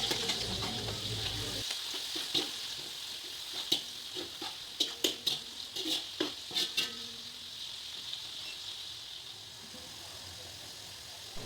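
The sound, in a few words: onions frying in a pan for poha chivda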